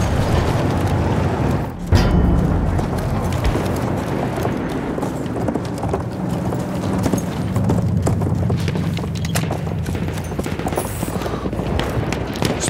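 Rapid galloping hoofbeats of a horse pounding along, loud and continuous, with a brief thump near the start and battle noise underneath.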